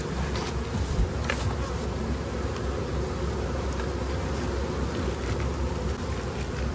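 Honey bees buzzing around the frames of a nuc hive, a dense continuous droning hum of many insects close by, steady throughout with no talk.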